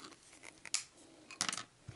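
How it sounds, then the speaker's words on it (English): Small plastic molding nubs are torn off RC car A-arms in a few quick, faint snapping and tearing clicks at close range. "We're just going to rip those off."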